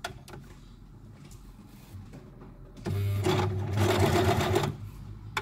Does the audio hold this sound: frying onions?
no